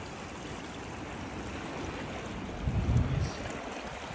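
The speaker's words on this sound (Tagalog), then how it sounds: "Kaya lang malakas talaga yung agos pa." Strong river current flowing at a possible fishing spot in New Zealand, a steady broadband rush of water with a brief louder low surge near the end, no voices.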